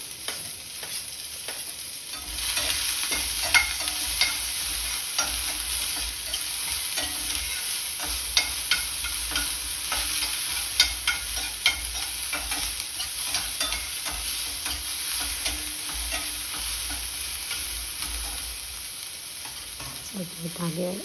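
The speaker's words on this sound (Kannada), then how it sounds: "ಹಾಗೆ ಈರುಳ್ಳಿನ ಸ್ವಲ್ಪ ಫ್ರೈ ಮಾಡೋಣ" Onions frying with green chilies in a pan, stirred continuously, a dense steady sizzle with frequent small scraping clicks from the spoon, close and unbroken for a long stretch with no voices.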